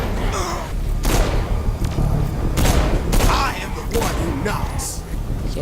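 Gunfire in the video game Saints Row 4: a rapid burst of sharp, repeated shots runs through the fight, loud and close, with gasps and speech-like vocal sounds mixed in.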